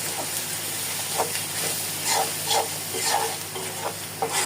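Small-fish curry with turmeric and chili powder being stirred in a hot pan, a continuous sizzle broken by repeated scraping strokes of a spoon, close and fairly loud, nothing spoken.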